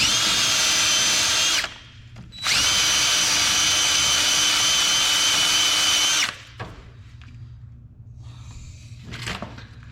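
A power drill with a wire-brush action scrubbing rust off the splines of a John Deere X729 PTO shaft, loud and close, running steadily in two long bursts with a short pause between, then quieter handling clatter.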